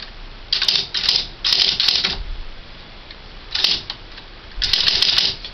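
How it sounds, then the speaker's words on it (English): Keys clatter on a Smith Corona SL575 electric typewriter in quick clustered bursts separated by short pauses, close and fairly loud over a steady mechanical hum. "Now I'm going to type out stuff, so paper's already lined up."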